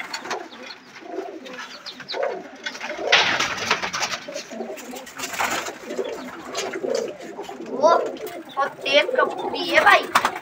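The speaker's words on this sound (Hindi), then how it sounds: "अरे कबूतर" Pigeons at a bird market in Lucknow coo repeatedly in soft bursts close by, and someone talks over them throughout.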